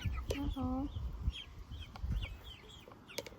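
Hens in a backyard chicken run cluck and give a few short pitched calls, close and moderately loud, with scattered soft clucks and light rustling between; faint voices may be mixed in.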